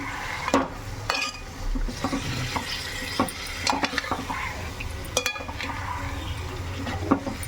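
Raw chicken tossed with salt and turmeric in a cooking pot for a home-style curry, with close scraping and stirring clatter in uneven bursts and a soft background hiss, no voices.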